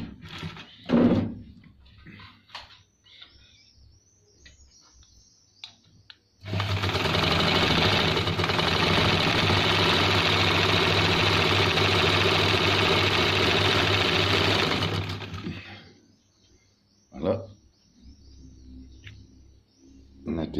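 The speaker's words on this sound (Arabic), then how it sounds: "هنا غادي نخيط انا" A Singer sewing machine stitches in one steady, loud, continuous whir that lasts about nine seconds. Quiet handling clicks and knocks come before and after it.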